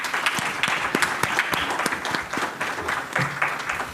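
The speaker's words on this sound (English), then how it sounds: "I think we should all give them a round of applause again." Applause from an audience at a Democratic Party leadership panel evening, steady and continuous clapping filling the whole stretch without talk over it.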